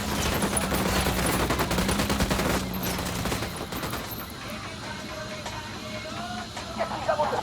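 Rapid suppressed automatic fire crackles in bursts during a tactical Ghost Recon firefight, loud and dense for the first few seconds, then thinning to sporadic shots and clatter.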